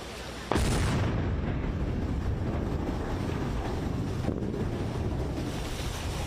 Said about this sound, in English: The section blown to pieces in a controlled demolition, the explosion freeing the Dolly cargo ship that's been stuck in the wreckage all this time.